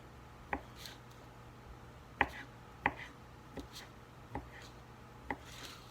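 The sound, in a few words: knife cutting up meats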